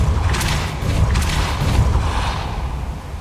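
Depulso spell cast in Hogwarts Legacy, a deep booming blast with a low rumbling thump and hissing burst, loud and sustained over roughly three seconds.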